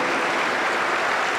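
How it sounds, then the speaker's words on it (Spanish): Sustained applause from a church congregation during a Sunday service, a steady broadband wash of clapping filling the whole moment without a break. "Un aplauso para el Señor Jesús"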